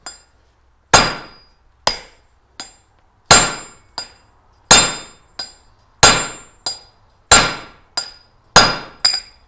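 A loose-headed hammer strikes metal about a dozen times in an uneven rhythm, during forge work. Each blow is a sharp, ringing clank that fades quickly before the next.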